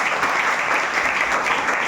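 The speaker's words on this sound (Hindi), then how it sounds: "ताली बजाओ उनके लिए।" Schoolchildren at a higher secondary school in Dhamora clap together in a dense, continuous burst of applause, loud and close, lasting about two seconds with no talk over it.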